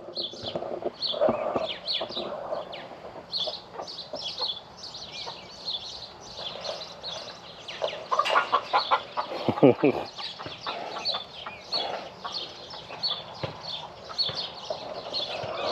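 Chickens cluck and squawk repeatedly nearby, with a brief loud flurry in the middle, while a person talks over them.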